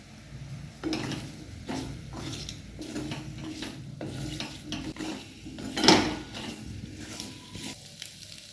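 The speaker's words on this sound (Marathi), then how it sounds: "दोन मिनिटं परतून घेतलेले आहे." Kasuri methi being stirred and sautéed in a pan for a savoury breakfast dish, with soft scraping and clinks of a spoon against metal, one sharper knock near the end, and no talking.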